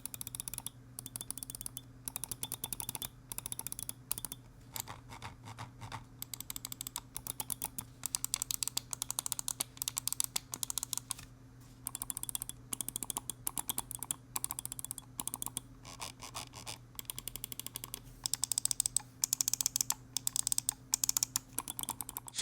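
Rapid, crisp button clicks from two gaming mice with Omron optical switches, tapped one after another close to the microphone in a steady, uneven patter lasting throughout, with no talking.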